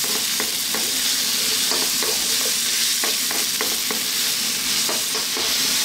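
Vegetables including potatoes sizzle and fry in a pan on medium heat as a utensil stirs them, steady hissing broken by repeated close scraping strokes.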